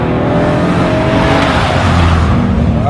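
A BMW M3 drifting into a tight hairpin, its engine roaring loud and close with sustained tire squeal and skidding throughout.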